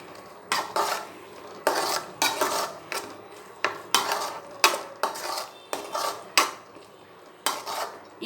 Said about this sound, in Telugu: ఇది ఈ సాస్ వేసేసి ఒక్కసారి మీరు మళ్ళీ కలిపేసేయండి దీన్ని